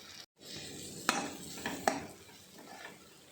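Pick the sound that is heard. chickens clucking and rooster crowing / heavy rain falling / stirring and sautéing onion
stirring and sautéing onion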